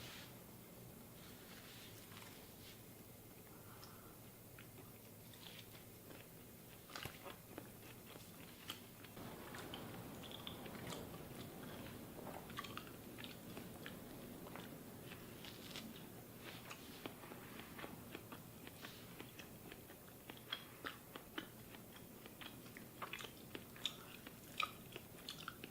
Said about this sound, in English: Just for the sake of digestion, I do usually try to chew it pretty well.